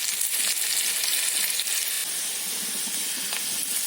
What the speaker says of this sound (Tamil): கடுகு வெடிச்சதுக்கப்புறம் நம்ம வெங்காயத்தை போட்டு நல்லா ப்ரௌனிஷாக ஆகிற வரைக்கும் வச்சுக்கணும்